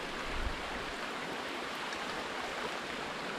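Spring water flowing out from under a rock at the foot of a mountain, a steady, close, continuous rush and trickle with no voices over it.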